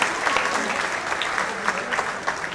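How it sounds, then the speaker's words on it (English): A crowd of listeners at a presentation applauds in a steady, continuous patter of many hands, moderately loud and slightly distant. "Can we have a huge round of applause for all guys, please?"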